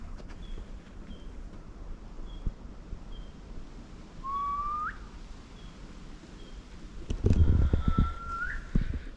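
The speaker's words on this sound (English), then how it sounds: "Been hearing this bird call" A rising whistled bird call sounds twice, a few seconds apart, fairly clear against outdoor background noise in an Australian tropical rainforest, with softer faint chirps in between.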